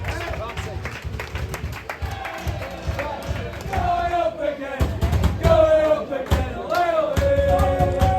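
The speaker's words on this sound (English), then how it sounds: "Fylde fans enjoying himself there in the crowd" Fylde supporters cheer in the stands at a non-league football match at Buxton after a goal, a continuous roar of crowd voices and shouts that swells louder midway, with chanting tones rising above the din.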